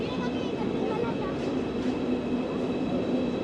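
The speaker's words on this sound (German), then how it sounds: "Na, ganz schön lang der ICE." Long ICE high-speed train rolling past at a German station, a steady loud rumble with faint rail clatter and a high whine, voices murmuring under it.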